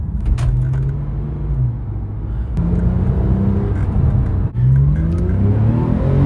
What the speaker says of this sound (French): T'as un Atmo qui fait un bruit magnifique, qui prend 7000 tours.